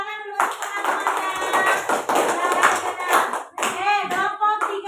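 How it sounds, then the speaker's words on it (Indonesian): A school class claps for classmates in a classroom, brisk continuous clapping mixed with children's voices calling out over it. "Tapi beri tepuk tangan dulu untuk teman-temannya."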